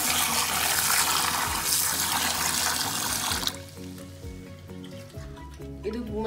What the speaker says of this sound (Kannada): ಆಮೇಲೆ ಇವಾಗ ಅಕ್ಕಿ ತೊಳ್ತೀನಿ